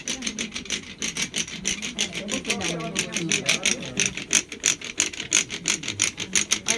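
An old-fashioned hand drill being worked back and forth on a historical demonstration in Egypt or Israel, giving a fast rhythmic rubbing, rasping squeak that repeats steadily and loud, with people talking over it.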